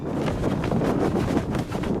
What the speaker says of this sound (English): But today is very windy, which is very, very aggressive.